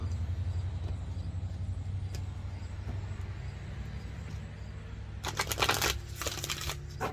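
A Halloween tarot deck riffles and shuffles over a low steady rumble, ending in a brief burst of crisp, rapid fluttering near the close.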